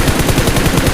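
An M4 rifle fires in a PUBG-style video game, a dense, loud burst of rapid automatic shots packed into about a second.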